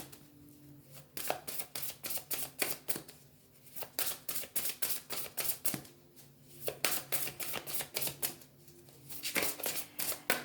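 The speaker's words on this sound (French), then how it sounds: "je vais prendre plutôt les plus grandes cartes en premier, comme je le fais habituellement" Tarot cards riffle and shuffle in quick, crisp bursts, several rapid flurries separated by short pauses, close and fairly quiet with no talking.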